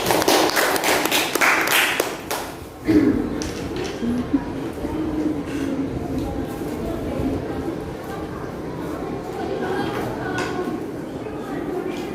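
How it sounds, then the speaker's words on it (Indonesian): A classroom of students claps briefly during a lesson, a short close burst of applause at the start that gives way to murmuring and a teacher talking over room noise. "Tepuk tangan dulu untuk Gea."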